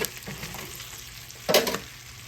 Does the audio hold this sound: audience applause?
no